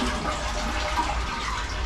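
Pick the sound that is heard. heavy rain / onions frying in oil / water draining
water draining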